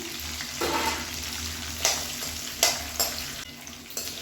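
Small onions and garlic fry in a pan with a continuous crackling sizzle, broken by a few sharp stirring scrapes and clicks, close and moderately loud.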